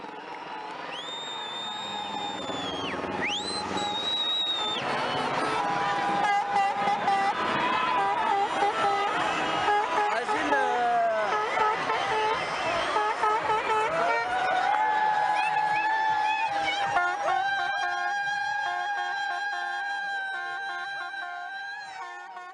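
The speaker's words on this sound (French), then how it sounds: "la foule manifestait sa joie avec des cris et des applaudissements" A large crowd at a celebration during the Egyptian revolution, dense overlapping whoops, shrill cries and high whistles rising and falling continuously for over twenty seconds, loud and sustained with cheering throughout.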